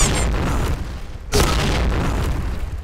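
Two heavy booming explosions, the second sharper and louder, set amid continuous game-like rumble and noise.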